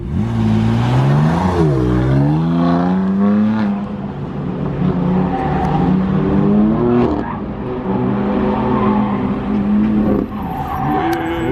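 A BMW M4 GT4 race car runs a cone course with a last-minute braking challenge: a loud, close engine revs up and down in sweeping pitch changes, with skidding tires squealing as it brakes hard.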